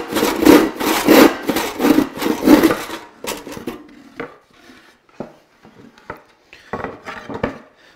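A sharpened, well-tuned hand saw rips along a marked line through wood stock for a Shaker bench, giving about five loud, rhythmic rasping strokes before stopping, followed by quieter scattered knocks and scrapes of handling.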